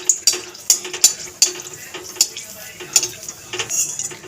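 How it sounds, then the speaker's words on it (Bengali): Dried red chillies fried in hot mustard oil in a pan, with repeated sharp scrapes and clinks of a spatula stirring at an uneven rhythm over a soft background sizzle, close and fairly loud, with no talking. "নেড়ে চেড়ে শুকনো লঙ্কা দুটোকে ভেজে নেব"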